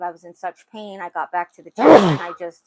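A single loud, close sneeze bursts out right after a stretch of talking, followed by a brief quiet breath.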